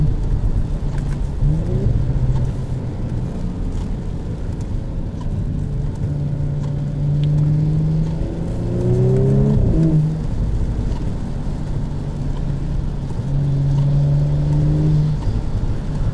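The V6 engine of a 2018 Audi S4, heard from inside the car, drones steadily, with revs swelling and climbing in a couple of rising sweeps before settling back.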